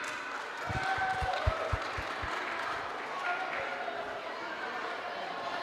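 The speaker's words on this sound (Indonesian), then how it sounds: "kita beri tepuk tangan untuk Inang" Audience at a Sunday school Christmas celebration in an HKBP church hall gives a soft round of applause, with a few low thumps at the start under a steady murmur of the room.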